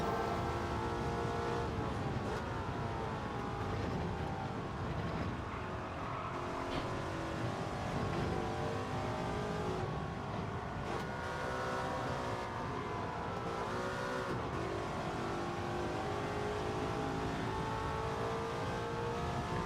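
A race car engine in Gran Turismo 7 at Watkins Glen, played in VR, drones loud and continuous, rising and falling through revs and gear changes with occasional tire squeal, no talk over it.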